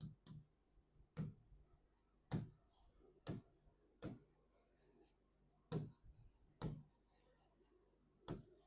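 Marker or chalk strokes on a board during a Class 6 mathematics lesson on lines and angles, a string of short scraping strokes at an uneven pace, close and faint, with a teacher talking in between.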